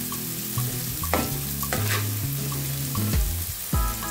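Onions fry on a high flame in a pan for street-style gobi fried rice, a loud continuous sizzle broken by several scraping stirs and clatters of a spatula.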